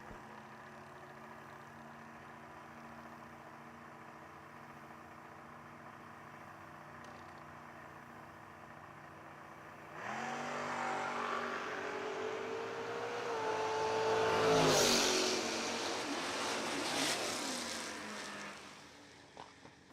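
A Camaro at a footbrake drag racing event: a low engine hum sits quietly at first, then a louder roar swells and climbs as the car pulls away, peaking before easing off in the distance.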